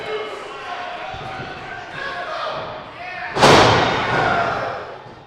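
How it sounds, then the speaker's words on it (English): A wrestler slammed down onto an opponent during a wrestling match, a single heavy thud on the ring mat followed by a swelling crowd reaction, with commentary heard throughout. "Now Diesel is tagged in Dallas, and he's picking up Dallas and slams him on top of Big Flex."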